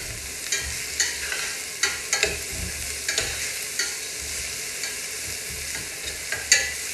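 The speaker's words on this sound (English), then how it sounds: "I'm going to start mixing it all up." Turkey meat is mixed in a pan, a low sizzle broken by repeated soft scrapes and clicks of the utensil at an irregular rhythm, close and alone without speech.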